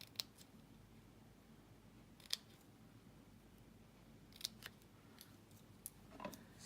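Scissors cutting paper during a craft project, heard as a few sparse, crisp snips spread across a quiet room, faint and close with no talking.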